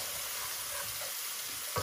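Ginger and garlic are frying in hot oil in a pan, giving a steady, close sizzle that hisses on without a break and without any voices.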